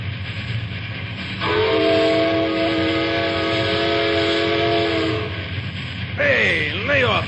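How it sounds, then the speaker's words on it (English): A train whistle sounds a long, steady blast, then a shorter wavering toot, over a low rumbling background. "lay off that whistle, Tim."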